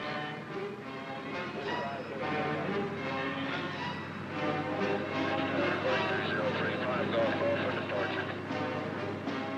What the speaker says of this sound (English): From the main heliport at Walters, the copters take off to fan out toward the various training fields